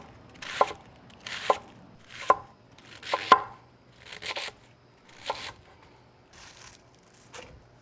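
A big head of cabbage being cut into strips for coleslaw: about eight sharp knife chops on a board at an uneven pace, close and clear, growing fainter toward the end, with no voices.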